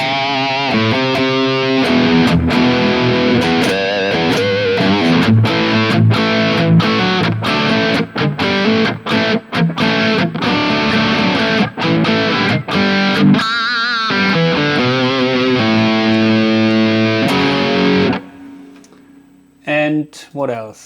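A distorted electric guitar through a Mooer GE1000 amp modeler plays chugging rhythmic chords with sharp stops, a hall reverb tail ringing out briefly at the end.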